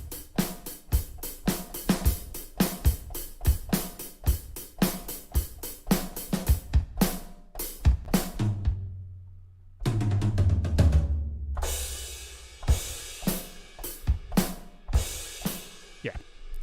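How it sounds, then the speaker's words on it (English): A full drum kit plays a steady rock beat, kick and snare driving under crashing cymbals, with a short fill and ringing pause before the groove resumes. "together a drum would sound something like this."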